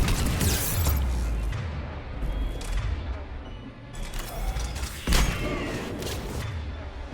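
A frag grenade goes off in the Mass Effect 3 video game, a heavy boom and thud rising out of ongoing combat noise, with a second sharp blast following a few seconds later.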